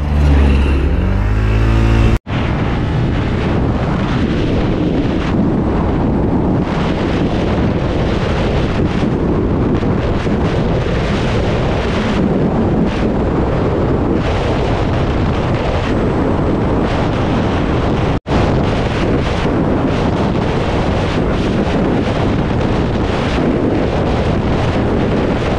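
Honda Click 160 scooter with a tuned CVT pulley set roars through a 0 to 100 acceleration and top-speed run, loud sustained engine drone buffeted by heavy wind noise, with one brief dropout midway.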